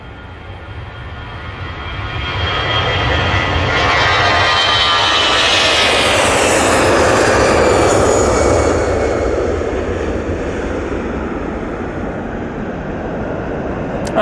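An EasyJet airliner's jet engines roar at Manchester Airport, a loud broadband rumble that swells to a peak midway and then eases slightly as the plane passes, with a rising whine on top. No one speaks.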